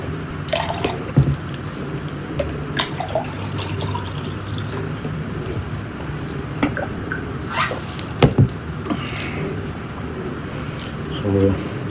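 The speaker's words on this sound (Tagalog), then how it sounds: "Hugas lang ang kamay." Hands being washed under running water, with splashing, dripping and trickling close by, and a person talking over it.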